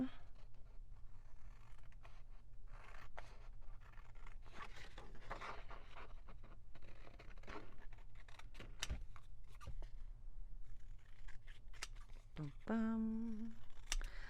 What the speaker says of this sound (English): Cool, let's cut it out.